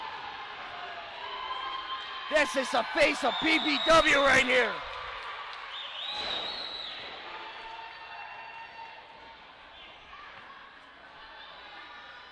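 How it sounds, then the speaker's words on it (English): A crowd at a PPW DangerZone pro wrestling event yells and chants in a loud rhythmic burst of voices, then settles into murmuring chatter, with a commentator speaking over it. "Listen to this crowd, Paul."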